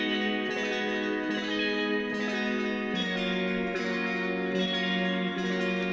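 Two layered electric guitars drenched in chorus, auto-pan and flanger, one EQ'd toward the highs, play a sustained shimmering bedroom-pop part with steady chord changes roughly every second, loud and alone.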